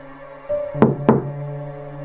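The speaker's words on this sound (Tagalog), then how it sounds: "Muli, dalawang katok lang. Eksaktong parehong lakas, parehong tunog, parehong oras." Two sharp knocks on a door, close and loud, spaced about a quarter second apart over a steady low hum, in a quiet Tagalog horror-story setting.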